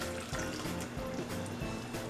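Hot water pours into a bowl of peach gelatin powder for an eggless no-bake pudding, a quiet continuous splashing trickle with soft bumps, no talking.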